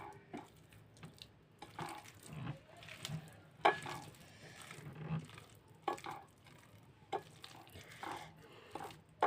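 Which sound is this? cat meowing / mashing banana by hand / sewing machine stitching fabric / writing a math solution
mashing banana by hand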